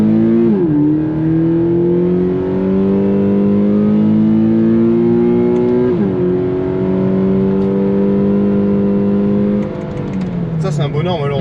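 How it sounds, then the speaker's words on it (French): A Subaru BRZ accelerates hard up an on-ramp, its engine note climbing through the gears with two clear shifts before easing off near the end, loud and close. "On va faire un gros coup de benzine sur la voie accélération."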